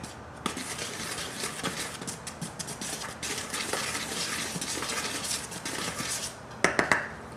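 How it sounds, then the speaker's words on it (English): Dry flour and salt whisked in a bowl for homemade tortillas, a steady scraping, tapping patter of the whisk against the bowl, close and moderately quiet, with a few sharper clinks near the end. "this part I like to mix it with the whisk"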